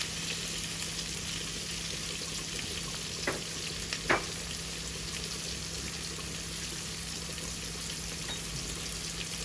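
Cabbage fries in a pan for a cabbage and egg dish, a soft steady sizzle with a couple of light clinks of a utensil, no speech.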